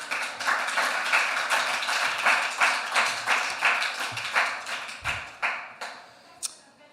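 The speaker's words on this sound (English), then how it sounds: "Please give a round of applause for Carlos Villaseñor" Applause rises for a panelist at a COP28 climate justice session: evenly paced, rhythmic claps from a modest audience that thin out and grow sparser toward the end, with one last isolated clap.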